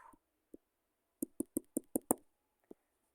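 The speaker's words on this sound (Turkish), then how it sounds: "Bak kapı çaldı işte." Knocks on a door: one isolated rap, then a quick run of about six firm knocks, and a final single knock, close and crisp in an otherwise quiet room.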